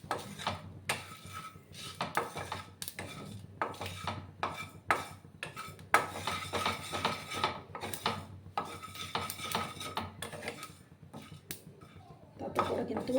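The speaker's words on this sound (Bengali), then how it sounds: "এবার আমি একটা শুকনো লঙ্কা, তারপর মৌরি আর এই যে 5 ফোড়নটা দিয়ে দিলাম" Dried red chilli, fennel and panch phoron dry-roast in a wok over low heat, with repeated metallic scraping and clattering of a spatula stirring in uneven bursts at moderate volume.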